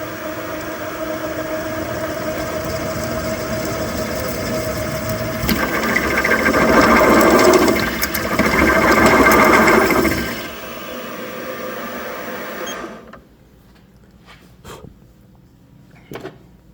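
A drill or cutting machine working a bicycle head tube, steady mechanical whirring that swells louder through the middle as it bites into the metal, then drops away to near silence with a few faint clicks.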